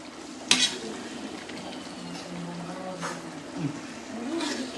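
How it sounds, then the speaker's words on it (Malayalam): A spoon stirs spiced masala of garam masala, turmeric and black pepper in a pot for beef biryani, giving soft scraping and a quiet sizzle, with a sharp clink near the start and light utensil knocks later. "നന്നായി ഒന്ന് ഇളക്കിയിട്ട് നമുക്ക് ബീഫ് ഇടുന്നത് കാണാം."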